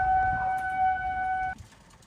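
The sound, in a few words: tornado sirens wailing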